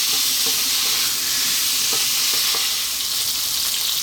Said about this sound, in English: So in it goes, and we're going to dry fry this for about 5 minutes on a kind of lively heat.